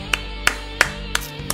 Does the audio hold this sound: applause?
yes